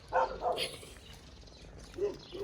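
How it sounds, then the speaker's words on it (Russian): A few dog barks in the distance near the Transfăgărășan road, two quick ones then a pause and another, over a faint background hum. "там собаки гавкают"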